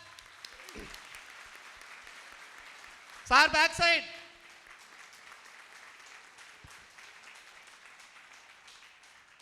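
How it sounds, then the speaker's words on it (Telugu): Seminar audience in a goal-setting boot camp training breaking into a short, loud burst of clapping lasting about a second, with quieter speech and room noise before and after. "మేము క్లాప్స్ కొడతాం, విజిల్స్ వద్దు. గట్టిగా జోర్ క్లాప్స్."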